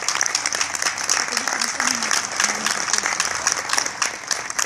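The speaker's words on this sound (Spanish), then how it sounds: "un aplauso a Armando." An audience at a poetry event applauds, with continuous close clapping over nearly five seconds and a voice speaking faintly beneath it.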